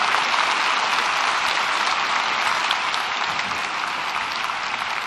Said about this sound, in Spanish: Démosle un aplauso al doctor Milton Peverini García.